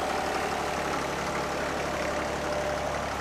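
Tractor pulling a plough across a field during match ploughing, its engine droning steadily at a constant low pitch throughout, fairly close and with no voices.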